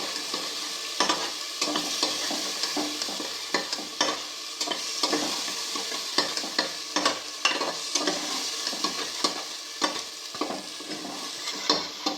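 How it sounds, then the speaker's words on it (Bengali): A spice paste masala with turmeric fries and is stirred in a pan, making a continuous loud sizzle broken by frequent rhythmic scraping strokes of the spoon, with no talking. "এটা হলুদও দিয়ে দিয়েছি। এবার মশলাটা আমি কষিয়ে নেবো।"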